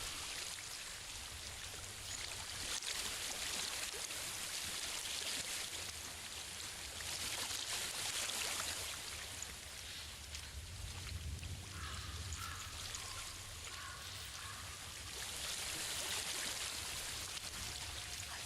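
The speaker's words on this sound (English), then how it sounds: "I hear water." Flowing stream water in the video game Hellblade: a steady, faint rushing and trickling that continues without pause, with no voices.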